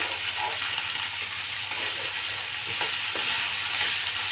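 Cut potato pieces stirred in a hot pan, a steady sizzling fry with light scraping and clinks from the stirring running throughout, close and unbroken with no talking.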